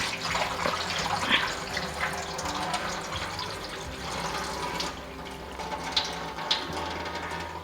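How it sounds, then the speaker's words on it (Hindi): Water pours into a cooking pot for rice in a matar pulao recipe, a steady close splashing stream that runs throughout and softens slightly toward the end. "अब इसमें मैं इतना पानी डालूंगी जितना मुझे राइस के लिए चाहिए।"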